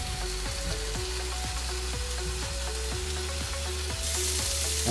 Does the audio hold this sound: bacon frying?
yes